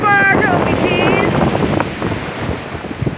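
Waves on Lake Ontario at Lake Ontario Park rush and break close by, with heavy wind buffeting the microphone over a loud, continuous surf.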